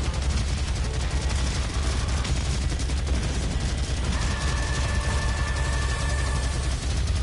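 Loud, continuous automatic gunfire from DOOM hammers away for several seconds in a steady rapid stream, with a faint high tone entering partway through and no voices.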